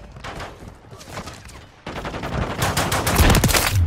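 Call of Duty Modern Warfare 3 Invasion match gunfire, scattered shots at first, then a louder, dense stretch of rapid automatic fire that keeps building to the end.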